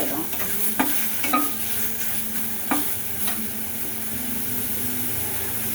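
Vegetables sautéed in a pan for adai batter, a steady sizzle with a spatula stirring and scraping a few times, close and alone.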